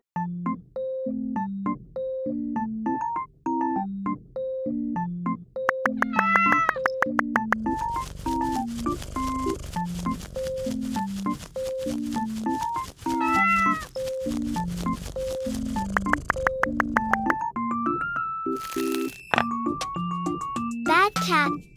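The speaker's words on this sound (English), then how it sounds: "Bad cat. You won't be able to eat cake today." A cat meows repeatedly in a bouncy, rhythmic pattern, the meows woven into a bright musical backing that runs throughout.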